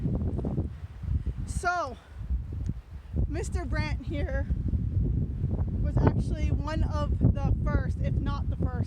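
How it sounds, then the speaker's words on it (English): Strong, continuous wind buffeting the microphone with a low roaring rumble at the Grand Canyon rim near El Tovar Hotel, while someone talks over it. "Once again, I apologize for the wind. It is quite windy here."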